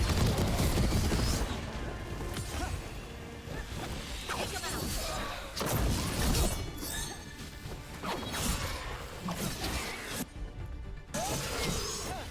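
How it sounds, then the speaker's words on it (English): Explosions and combat in Dragon Age: The Veilguard, repeated crashing blasts and smashing impacts with whooshes, loud and dense throughout. "I can also do explosions."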